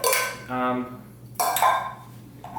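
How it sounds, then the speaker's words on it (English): Metal pieces of a cheap ultralight camping cook kit clinking and rattling as they are handled and packed, a few bright clanks separated by quiet gaps. "so yep, got me a cook kit"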